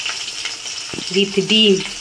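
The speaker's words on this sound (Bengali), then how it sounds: "চল তোমাদের দেখেন মাছটা ভাজছি" Hilsa fish fries in a pan at home with a steady, close sizzle and crackle. A voice speaks briefly over the frying near the end.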